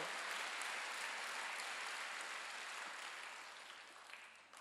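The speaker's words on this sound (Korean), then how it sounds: "박수야." A church congregation at a Wednesday worship service claps together in a dense, steady round of applause that carries on, then thins and fades toward the end.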